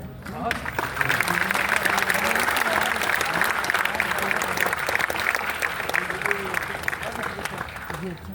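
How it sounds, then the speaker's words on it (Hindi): Hall audience at a poetry recitation event at IIT Bhubaneswar breaks into sustained, loud applause that swells after a brief start and keeps going, dense clapping with some voices mixed into the crowd. "आपकी तालियां कमजोर हैं"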